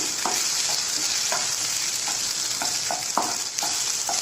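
Vegetables fry in a hot pan for a roasted-coconut Kerala sambar, a continuous close sizzle punctuated by a regular series of scraping stirs.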